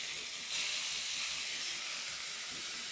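Onions sizzle steadily in hot oil tempered with cumin seeds, a loud, continuous bright hiss that swells slightly after the first half-second and holds without voices.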